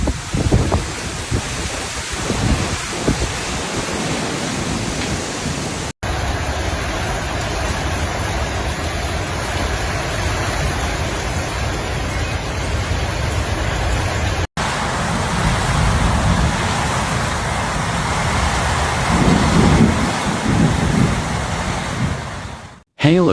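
A thunderstorm with heavy rain pours down in a continuous loud roar, deep rumbling thunder swelling beneath it, with two brief dropouts breaking the steady wash of sound.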